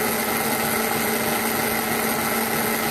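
An eddy current dynamometer built for a Formula SAE car runs under load, giving off a steady, dense mechanical whir with a constant tonal hum and no pauses throughout.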